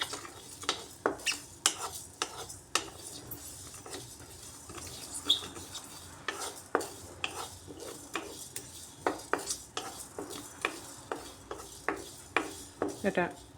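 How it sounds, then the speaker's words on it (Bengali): Spices toast in a hot wok with the gas switched off, heard as repeated close scraping and clinking strokes of a spatula against the metal, quick and irregular, over a faint background hiss. "গ্যাস বন্ধ করে গরম কড়াইয়ের মধ্যে হালকা ভেজে নিচ্ছি"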